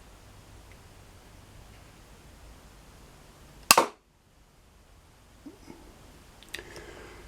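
A tiny crossbow looses a broadhead arrow with a single sharp snap and brief whoosh, close and loud against a quiet room, followed by faint small thuds and rustles.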